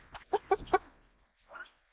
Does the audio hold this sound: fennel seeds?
no